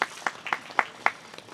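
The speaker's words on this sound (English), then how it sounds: "Please give her a round of applause as well." Scattered applause for a speaker at a panel speaker series, a handful of separate, fairly close claps spaced out rather than a full ovation.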